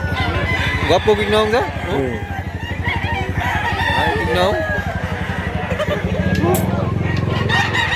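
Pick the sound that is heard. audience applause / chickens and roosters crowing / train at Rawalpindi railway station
chickens and roosters crowing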